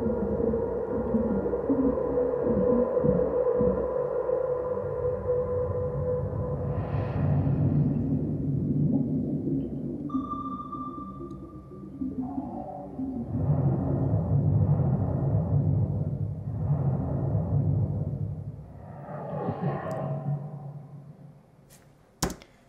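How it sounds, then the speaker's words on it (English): A jet flyby effect passed through a low-pass filter serves as a kick sound: a muffled, low rumbling whoosh that swells and fades in several dull passes, with a few faint tonal blips over it. "I put on the sound of a jet flying through the air."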